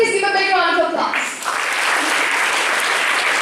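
A college auditorium audience at an engineering college anniversary ceremony bursts into applause as a voice trails off at the start, then steady loud clapping fills the rest.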